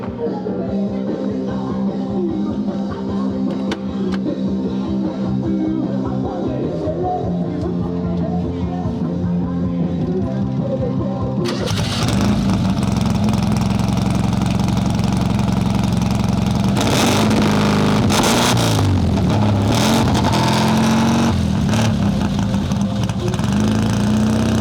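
A 1954 Ford Ranch Wagon engine runs at a steady idle, then abruptly roars louder as it is revved, the throttle rising and falling in bursts close by.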